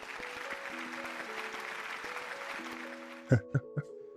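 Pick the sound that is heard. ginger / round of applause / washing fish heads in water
round of applause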